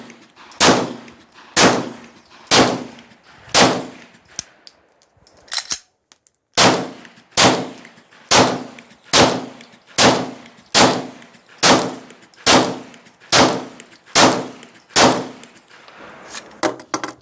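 Glock 17 pistol firing hard-primer reloads: about fifteen sharp, loud shots at a steady one-per-second pace, with a short pause partway through before firing resumes.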